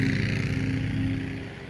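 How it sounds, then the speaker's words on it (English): A lawn mower engine drones steadily in a home vegetable garden, a close, loud motor hum with a constant pitch that eases slightly toward the end, with no talking. "Sorry that you probably can't hear me because Dan's mowing"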